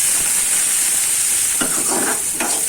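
A spoon scrapes and stirs through fenugreek greens in a pan after ground coriander-cumin and chutney spices are added, soft hissing and a few brief scraping strokes close by.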